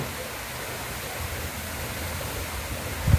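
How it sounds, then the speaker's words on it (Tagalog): Strong floodwater current rushing during a flood, a steady broadband roar filling the whole clip at moderate level, with a low thump near the end. "Grabe agos."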